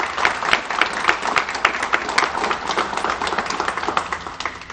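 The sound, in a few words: audience applause at ribbon cutting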